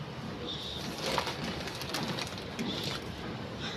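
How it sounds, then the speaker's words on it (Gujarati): Pigeons coo repeatedly in soft low rolling calls, with faint bird chirps above a constant outdoor hiss. "પારેવા ચકલા માટે ચણ નાખી દઈએ પેલા."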